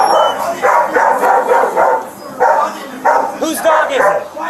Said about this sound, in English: Hey, the dog's yours out here.